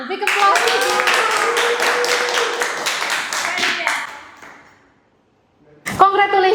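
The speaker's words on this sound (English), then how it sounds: "Big applause to Gilang." A classroom of students claps for the quiz winner, a quick rhythmic burst of close applause that fades out and then gives way to a brief word from a voice.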